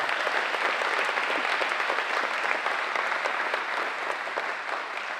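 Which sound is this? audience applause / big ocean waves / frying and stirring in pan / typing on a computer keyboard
audience applause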